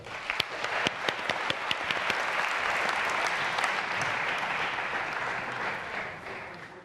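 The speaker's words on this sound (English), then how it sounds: "A round of applause for them." At a senior high school renewable energy challenge, the audience applauds a school team, starting with a few sharp separate claps that swell into full, steady applause heard at moderate distance.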